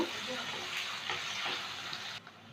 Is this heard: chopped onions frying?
yes